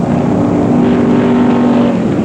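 Drag racing cars at a 1965 race, including a Model T body with a GMC engine, roar in a loud sustained engine drone with a steady tone as they run down the strip, with no voices.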